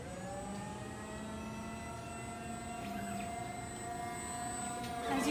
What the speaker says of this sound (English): As you can see, it starts the milling process.